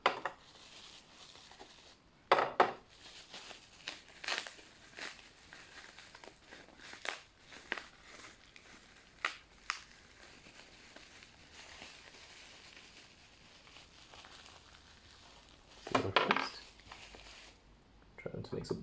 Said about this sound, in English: So let's just carefully take these parts out.